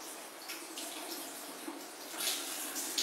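Tap water runs over the rinsed parts of an Omega VRT juice extractor, including the rotating brush and screw, a soft splashing stream that swells louder toward the end, with no talking.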